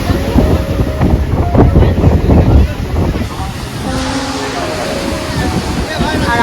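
Rough, swelling sea waves crash at Digha beach in strong wind. The surf makes a loud, churning wash with gusty wind buffeting, and people talk over it near the start.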